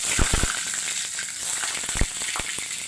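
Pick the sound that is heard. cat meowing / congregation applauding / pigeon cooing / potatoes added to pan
potatoes added to pan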